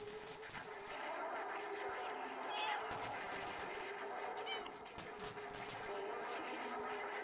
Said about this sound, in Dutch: Druk op B om te miauwen